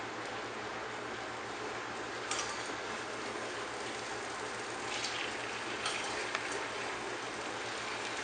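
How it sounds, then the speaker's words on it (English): A steady, even sizzle of chicken browning in a pan, continuous hiss with faint crackles, no voices. "you'll hear your pan sizzle"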